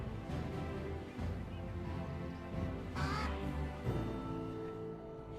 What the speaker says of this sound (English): grab my crows.